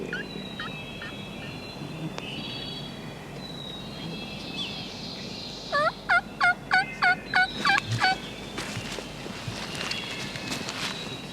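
A rapid series of loud wild turkey gobbles bursts out, about eight in quick succession, amid fainter bird calls and gobbles in open, hilly outdoor country at sunrise.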